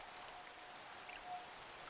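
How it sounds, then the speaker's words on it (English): Acid rain falling in a Minecraft modpack, heard as a steady, faint, hissing patter of raindrops that continues without a break and without any voices. "I don't really want to deal with acid rain."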